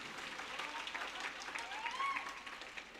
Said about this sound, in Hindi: अगर सुनना चाह रहे थे एक बार जोरदार ताली बजा देंगे